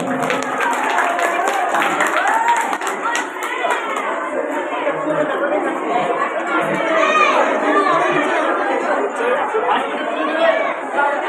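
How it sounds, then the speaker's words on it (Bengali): An audience at a high school's annual programme claps along with steady crowd chatter, with a burst of scattered hand claps in the first few seconds, followed by a continuous busy hall murmur and voices throughout. "সবাই একবার জোরে হাততালি দাও।"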